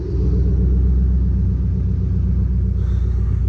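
A 2005 Ford Mustang GT V8, a rebuilt salvage car with its engine light on, idles with a deep, steady rumble, loud and close, with no voices over it.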